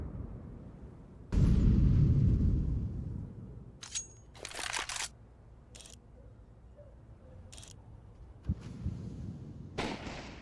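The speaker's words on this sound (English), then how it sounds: "Flashbang." A flashbang grenade bursts in a competitive video game match, a loud sudden blast with a roaring ringing tail lasting about a second, followed by sparse clicks and short sharp game sounds.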